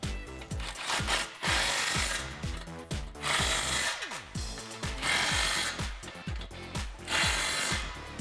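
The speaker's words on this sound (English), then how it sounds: "Grab a 15 socket and tighten down the clamps." Exhaust H-pipe clamps on a 2018-2019 Mustang GT are tightened with a 15 mm socket on a power tool, giving repeated short whirring bursts broken by brief pauses, close and fairly quiet.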